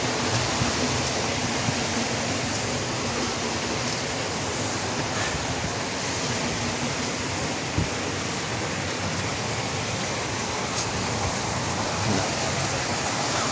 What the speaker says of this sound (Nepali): यहाँभित्रबाट टक्क पानी बगेर आएको छ यसरी